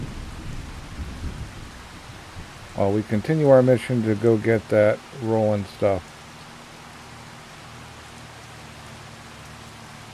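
Steady rain hiss with low thunder rumble in Farming Simulator 25, a constant storm bed running under someone speaking in the middle stretch, with weather sounds alone before and after.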